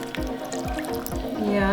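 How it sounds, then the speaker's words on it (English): Milk poured into banana cake batter: a short run of dripping, glugging liquid sounds with a steady rhythm, close and clear over a background hum. "We keep adding in some milk to make it soft."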